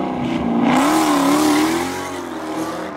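A Dodge Hellcat and a GTR with bolt-on upgrades launch side by side in a dig race, one engine roaring loud and close as its revs swell, then dip and hold, without any talk.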